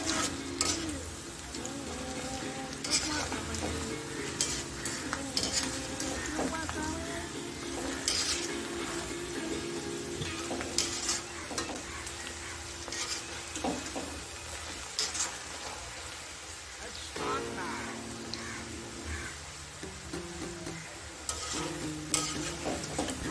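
Parsley and small onion pakoda fry in hot oil with a steady sizzle. A spoon stirs through the pan and clinks against it now and then. The sound is close and continuous, with no talk.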